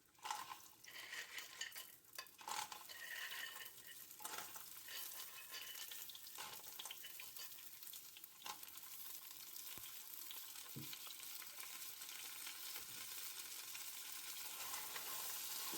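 Clams sizzle and spit in a hot frying pan for Sicilian pasta with clams and wild fennel, a steady close crackle with occasional stirring clinks and scrapes, no voices.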